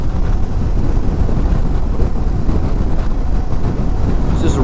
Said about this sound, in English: It is unbelievably windy though.